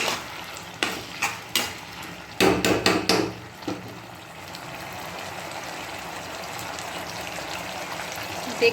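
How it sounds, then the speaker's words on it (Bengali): Sauce boils on high flame in a pan while being stirred: a few sharp knocks of a utensil open, then a steady bubbling hiss continues on its own. "দেখছেন টকবক করে ফুটছে"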